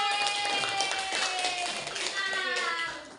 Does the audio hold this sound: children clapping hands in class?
yes